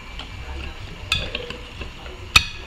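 Chocolate cupcake batter being mixed in a bowl, soft close stirring scrapes with a few sharp utensil taps against the bowl's rim, quiet and irregular.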